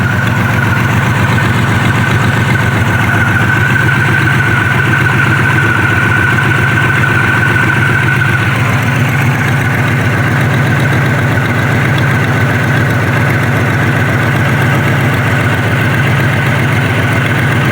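A 2006 Pontiac Grand Prix engine with exhaust leaks idles steadily and loudly up close, with a continuous rumbling, ticking drone and a faint whine through the first half.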